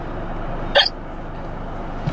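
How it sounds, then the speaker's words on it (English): A single sharp hiccup from a person, heard alone against a quiet room hush with no talking. "I have the hiccups."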